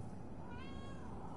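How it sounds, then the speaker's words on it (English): A cat in the video game Amnesia Rebirth gives a single drawn-out meow, faint and steady over a constant low background hum. "Yes, you're a cat."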